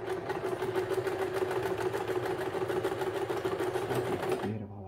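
A sewing machine runs fast and steady at close range, stitching a 1 cm seam in one continuous burst before stopping abruptly at the end.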